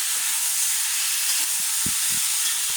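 Curry with onions cooks in a pan, giving a steady broad hiss of sizzling that stays constant and close, with a few faint low knocks beneath it.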